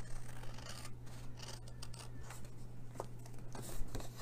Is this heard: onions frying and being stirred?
no